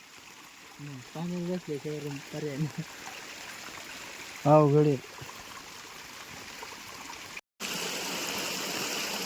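A stream gushes beside a rock shelter during a day of rain. A steady rushing wash sits under a man's speech, then surges louder and brighter at the end.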